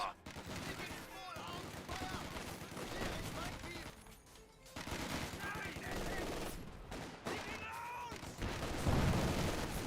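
Rapid bursts of machine-gun and rifle fire in Company of Heroes 2, a loud, dense crackle of gunshots running nearly throughout alongside a commentator talking over the battle.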